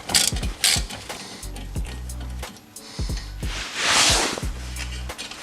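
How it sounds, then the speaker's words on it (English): Small 7mm hex screws being broken loose and backed out of a brake caliper on a BMW E90, giving a few sharp metallic ratchet-like clicks and short mechanical bursts, close up with no talking. "Then you simply break them loose like that, screw them out."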